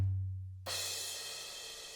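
A crash cymbal in an indie folk mix through shimmer reverb: a bright wash swells in after a low tone and rings on as a long, lush, slowly fading tail.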